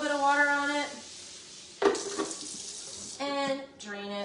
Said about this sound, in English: So I'm just gonna put a little bit of water on it